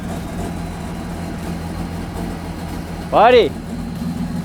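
A diesel engine in a cheap used car idles with a steady low rumble, while a person speaks briefly over it.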